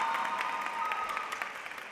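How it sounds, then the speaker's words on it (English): An audience at a high school senior awards night applauds a graduating salutatorian, a steady patter of many hands clapping for about two seconds and slowly fading, heard from some distance. "so let's give her another hand of applause."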